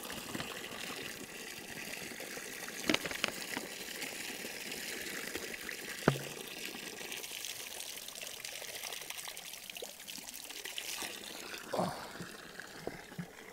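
Natural spring water pours steadily into a bottle outdoors, a continuous close trickling gush with a few small clunks of the bottle, running alone without talk for over thirteen seconds.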